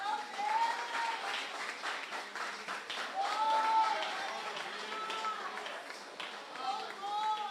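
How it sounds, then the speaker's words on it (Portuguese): Congregation applauding the Lord at a church service, a steady wash of clapping that holds for the full stretch with a few raised voices and cheers mixed in. "Vamos lá, aplauda o Senhor."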